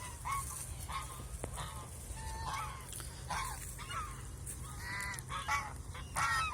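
Domestic geese on a farm honk repeatedly in loud, overlapping calls close by, with a steady low background rumble throughout.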